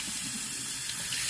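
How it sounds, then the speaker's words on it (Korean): Water gushes steadily from the outlet of a stream water pump in a mountain setting, a continuous close splashing rush with no pauses. "이제 물이 나오는 거를 이제 확인을 해야 되거든요"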